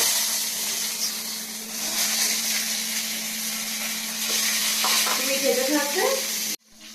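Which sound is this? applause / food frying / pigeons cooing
food frying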